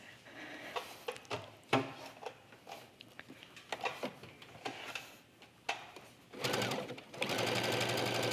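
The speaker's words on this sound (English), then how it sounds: "I'm getting a nice straight line of stitching all the way across my bead fabric" A sewing machine stitches a line across beaded fabric, starting with short clicks and bursts, then settling into a steady, close, continuous whir for the last couple of seconds.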